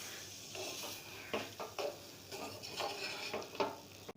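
Semolina dough being stirred and cooked in a pan over very low heat, giving repeated soft scraping strokes in a steady rhythm, close and fairly quiet, with no talking.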